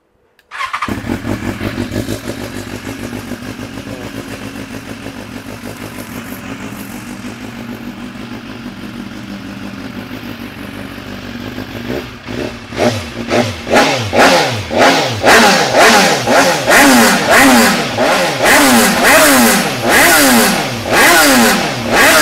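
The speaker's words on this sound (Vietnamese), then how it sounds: "Nổ máy cho anh em nghe thử." A BMW S1000XR motorcycle fitted with a modified aftermarket exhaust starts up and idles steadily, then is revved hard in a series of sharp rising and falling blips that grow louder and more frequent toward the end, close by.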